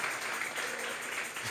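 A church congregation applauding in offering to God, a dense steady wash of many hands clapping at once, sustained and fairly loud.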